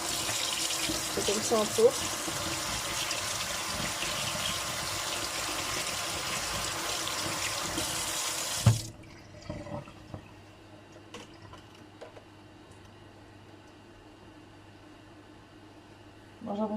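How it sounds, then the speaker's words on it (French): A tap runs steadily for about eight seconds to rinse mayonnaise off a spoon in a kitchen sink, then cuts off abruptly, leaving quiet clinks and a short remark in French. "on va vite rincer la cuillère quand même"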